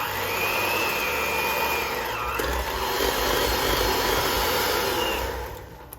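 An electric mixer beats two sticks of butter in a large bowl, whirring loudly and steadily with a slight pitch dip midway before winding down near the end.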